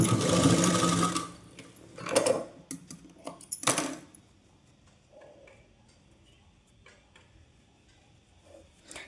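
A sewing machine stitches a six-piece petticoat, with a short close burst of running at the start followed by several clicks and clunks of handling, then near quiet with faint scattered ticks.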